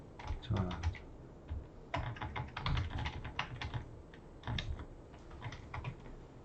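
An assignment title is typed on a computer keyboard in quick close clicking bursts separated by short pauses.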